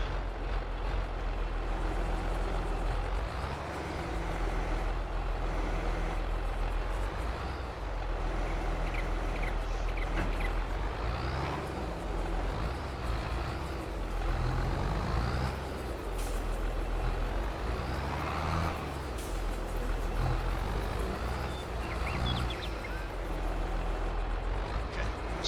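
A vehicle with pallet forks in Farming Simulator 22 rumbles and drones steadily in a low engine hum, with faint mechanical clunks and shifting tones over a long stretch.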